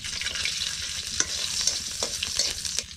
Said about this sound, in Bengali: রসুন আর রাঁধুনি ভাজা হয়ে গেছে